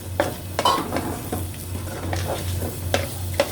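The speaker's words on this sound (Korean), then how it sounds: "김치를 먼저 볶기 전에 고기를 먼저 볶습니다" Pork with its fat stir-fried in a pan before kimchi goes in, a steady sizzle broken by several sharp utensil scrapes and clacks against the pan, with a low hum running underneath.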